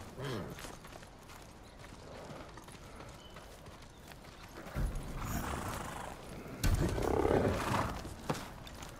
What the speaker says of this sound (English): And then there's this black horse